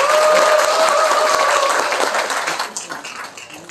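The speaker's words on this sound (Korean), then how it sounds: "다시 한번 큰 박수 부탁드리겠습니다" A lecture audience breaks into loud, sustained applause after a special talk, the dense clapping holding strong before gradually thinning and fading toward the end.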